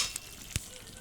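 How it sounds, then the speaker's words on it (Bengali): Ghee hitting a hot pan of mochar ghonto, a Bengali banana-flower dish, giving a soft continuous sizzle with two brief louder pops, the second a sharp crackle. "এবার এর উপর দিয়ে একটু ঘি দেব।"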